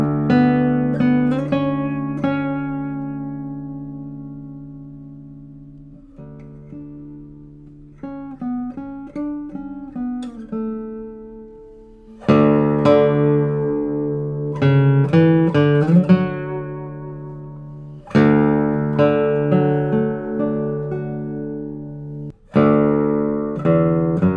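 Cedar doubletop acoustic guitar played alone, with ringing plucked notes and strummed chords separated by pauses, warm, woody and close.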